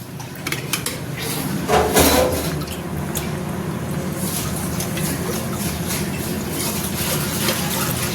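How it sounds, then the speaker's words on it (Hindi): Water is poured into a pressure cooker holding dal for a village-style toor dal with spinach, a continuous close splashing, gurgling rush that stays loud and steady throughout. "ये एक दाल लगी हुई है, इसमें थोड़ा सा पानी डाल देंगे"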